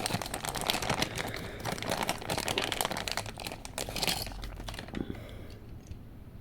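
Plastic packaging crinkles and crackles as it is pulled off a Tomica Premium Ferrari F40 toy car, a busy stretch of close rustling and crunching that tapers off toward the end.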